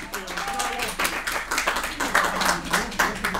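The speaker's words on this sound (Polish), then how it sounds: "Wielkie brawa" Crowd applause greets a player introduced by number at a match between the Łomża and Ostrołęka local government teams, with steady clapping of many hands under a loud announcer's voice echoing in a venue.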